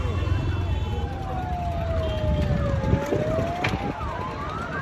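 A fire brigade vehicle's siren wails in long rising and falling sweeps at a car fire on a main highway. It sounds moderately distant, over dense crowd and roadside noise with people talking.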